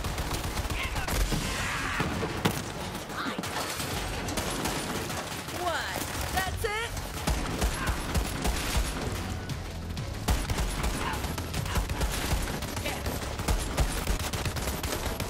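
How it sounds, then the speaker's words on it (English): Shotgun fire in Borderlands 3 comes through as dense, repeated blasts of game gunfire alongside other weapon and combat noise, steady and loud throughout with no clear spoken words. "the shotgun's actually really good"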